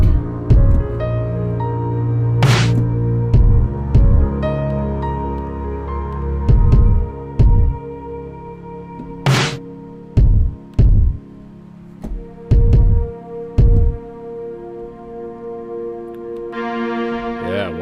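Sustained synth or keyboard notes soaked in a dark hall reverb, with repeated struck chords and percussive hits trailing into long, murky, low-heavy decay tails and a brighter washy swell near the end.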